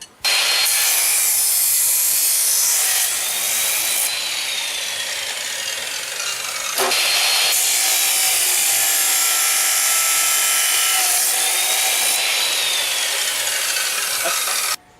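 A power tool cuts a metal tube to length for Jeep tube doors, a loud, sustained high-pitched grinding whine with a short pause midway before the cut resumes and runs to the end.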